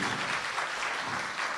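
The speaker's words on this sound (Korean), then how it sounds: "박수!" A studio audience applauds in a steady burst of clapping at a Korean talk show taping, dense and even, with no voices on top.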